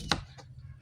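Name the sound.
slicing raw banana for banana chips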